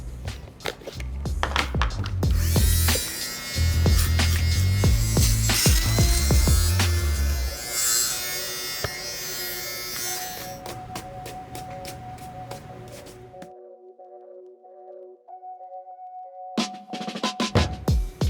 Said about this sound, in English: hit up the sock liners to get rid of all the lint balls using our shaver.